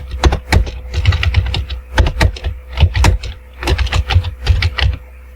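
Rapid typing on a computer keyboard while text is entered in Adobe Illustrator, with close, crisp key clicks in uneven bursts and short pauses and no talk.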